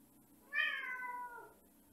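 A cat gives one fairly quiet, drawn-out meow on its own, falling in pitch as it fades.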